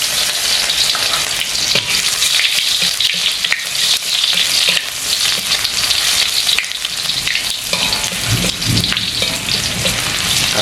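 Shallots and garlic sautéing in hot oil for stir-fried jengkol, a loud continuous close sizzle with crackling and occasional stirring scrapes throughout, no talk.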